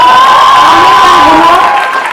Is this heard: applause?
yes